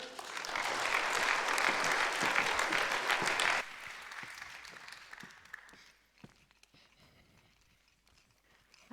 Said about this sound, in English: Please give Ashish and Hex a big round of applause